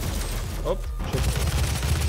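Demons trading fire with each other in the first-person shooter Doom: a steady, dense barrage of gunfire and impacts, loud and continuous throughout with no pause.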